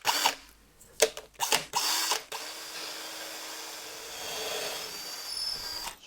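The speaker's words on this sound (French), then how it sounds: "j'ai pris un foret de 10, c'est confort" A power drill with a 10 mm bit bores a hole in wood. A few short bursts lead into a sustained whirring drone that grinds steadily at close range, then cuts off.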